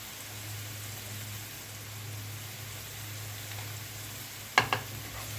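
Vegetables with spices and sausage frying in a pan give a steady, soft sizzle throughout, with two brief scraping clicks from stirring near the end.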